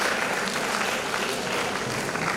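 Dense, steady applause from an audience at an International Women's Day ceremony, filling the short moment evenly at close range with no break.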